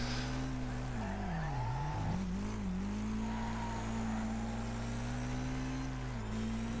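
Race car engines in the video game Wreckfest drone steadily, with the pitch dipping and climbing as the car shifts and accelerates through an online race. No one speaks.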